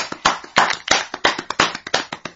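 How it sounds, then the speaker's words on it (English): Sparse, polite golf clap from a few people on a podcast, around a dozen soft claps in an uneven rhythm, close and fairly quiet, with no talking. "Golf clap."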